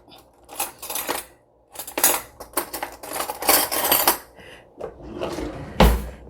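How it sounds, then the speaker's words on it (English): A spoon clinks and scrapes against the inside of a cup while stirring a caramel macchiato, in quick repeated bursts of metallic tinkling with short pauses between them. "Okay, so I'm going to stir it. Stir, stir, stir."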